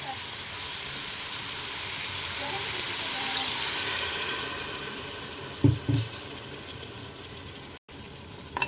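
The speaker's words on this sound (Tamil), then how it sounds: "அடுத்து தேவையான அளவு கொஞ்சமாக தண்ணி சேர்த்துக்குவோம்" Water pours steadily into a hot pan of goat head curry, a continuous hiss and sizzle filling the space, followed by a couple of clinks as it settles.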